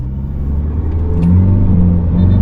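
An Isuzu D-Max pickup with an AC60 automatic transmission and its original TCU downshifts while driving. The engine rumbles loud and close, with its low tone shifting and rising as the gear changes, and no one talks.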